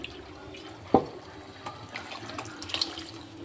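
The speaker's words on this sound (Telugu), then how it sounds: "ఇప్పుడు ఈ కుక్కర్లో కొద్దిగా వాటర్ వేసుకొని" Water splashing into a metal pressure cooker with a sharp clank at the start, followed by quiet trickling and faint clinks.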